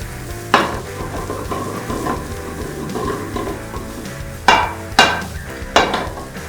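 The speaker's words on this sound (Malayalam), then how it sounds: "ഒരു മുഴുത്ത സവോള നമ്മൾ ചോപ്പ് ചെയ്തിട്ടുണ്ടായിരുന്നു അത് ചോദിക്കുകയാണ് നന്നായിട്ട് നമുക്ക് വഴറ്റി കൊടുക്കാം" Chopped onion sautés in a pan for chicken curry, a steady close sizzle broken by several sharp clacks of a spoon stirring against the pan.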